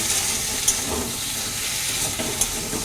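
Vegetables for a sour fish curry fry in a little oil in a pan, giving a steady broadband sizzle with a few light stirring scrapes and clinks. Close and continuous, with no talking.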